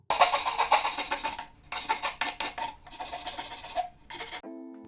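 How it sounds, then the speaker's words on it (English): A hand file and sander rasp across a cast concrete nightstand, with steady scraping strokes in several close bursts separated by brief pauses, ending abruptly. "I'm going to go ahead and use a file and a sander to clean everything up"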